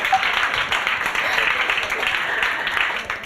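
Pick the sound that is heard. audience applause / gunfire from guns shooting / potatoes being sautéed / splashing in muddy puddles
audience applause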